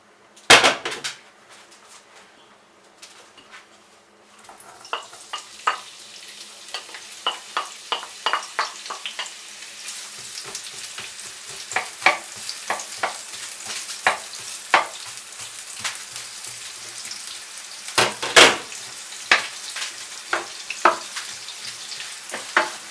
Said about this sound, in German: In der Zwischenzeit kann ich schon mal die Zwiebel anbraten.